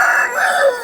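Rooster crowing at a rural weekly market in Gokavaram, one loud, close, drawn-out call with a rising then falling tone, heard alone without talk.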